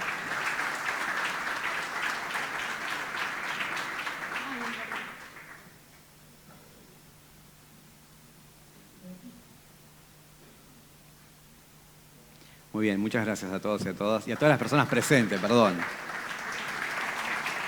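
Audience applause at an ethics conference session on gender identity law: a few seconds of clapping under a speaker's voice, then near silence, then the speaker talks again over the room.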